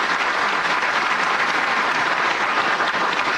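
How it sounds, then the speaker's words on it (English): A crowd claps at a Medal of Honor ceremony in steady, dense applause that holds at an even level throughout, with no voices standing out. "Everybody claps."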